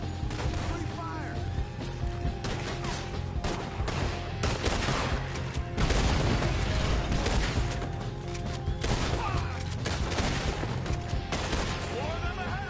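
Gunfire in the video game Red Dead Redemption 2 rattles on without a break as a loud, dense fusillade of overlapping shots and bursts, with game voices mixed into the barrage.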